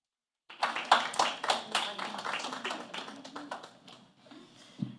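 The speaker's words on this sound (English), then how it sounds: "they're clapping very loud for you" Audience clapping at a girls-in-science panel discussion, a burst of scattered hand claps that starts abruptly, peaks early and thins out over several seconds, fairly close and moderately loud.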